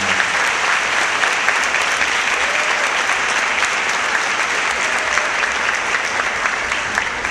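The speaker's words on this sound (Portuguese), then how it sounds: "Dê um aplauso a Jesus por isso" A church congregation claps and applauds steadily, a thick, even wash of many hands filling the room from start to finish without pause.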